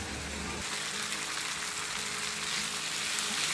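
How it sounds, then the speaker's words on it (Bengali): Onion paste sizzling in hot oil over ginger and garlic paste, a steady close frying hiss that stays loud and even throughout. "আদা এবং রসুনটা কিছুক্ষণ খুব ভালোভাবে নেড়ে নিয়েছি, এখন এর মধ্যে দিয়ে দেব বেটে রাখা পেঁয়াজটা"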